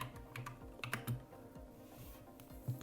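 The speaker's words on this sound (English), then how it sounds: "I can type any text, for example, my agency." Someone types text on a computer keyboard, a quiet, close run of irregular key clicks with a few louder taps, no voices.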